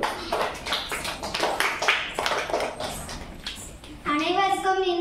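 At a school Children's Day celebration, the audience applauds a fifth-grade girl walking on stage with scattered, uneven claps that fade as her young voice begins speaking.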